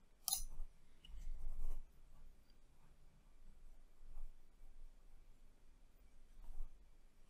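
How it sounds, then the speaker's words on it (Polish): Computer mouse clicks while working in Unity, a few faint sharp clicks spread over a quiet stretch, with soft handling noise between them and no talk. "więc klikam Import"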